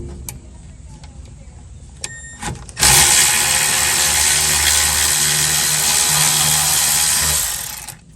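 An impact tool spins off the rear brake caliper bolts on a VW Jetta, a loud sustained whir of about five seconds after a few short clicks and quiet shop noise.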